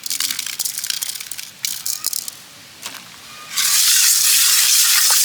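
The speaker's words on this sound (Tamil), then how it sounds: "அது வந்து நம்ம உப்பு போட்டு நல்லா உடஞ்சிக்கலாம்." Fish being scrubbed clean by hand with coarse rock salt in a village outdoor kitchen, giving gritty crunching and scraping bursts that turn into a loud, continuous rough hiss of salt grinding against the fish toward the end.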